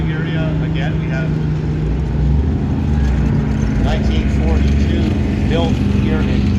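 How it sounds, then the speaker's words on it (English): 1942 Ford Canada Universal Carrier, the tracked Bren gun carrier, drives past with a loud continuous engine drone and clattering tracks, while someone talks over it through much of the stretch. "We have the Universal Carrier, or more commonly known as the Bren gun carrier."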